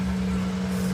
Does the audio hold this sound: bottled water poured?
no